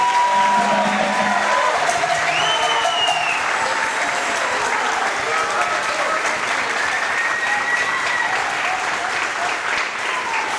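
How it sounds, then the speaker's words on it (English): A concert audience at a wind ensemble's video game music show applauds the composers: steady, dense clapping that fills the hall for the whole stretch, with a few faint cheers and whoops mixed in. "one more round of applause for our composers, please"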